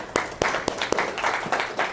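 Audience applause greets a guest speaker at an event on renewable energy, with several sharp, loud claps in a broken rhythm over a steady wash of hand-clapping.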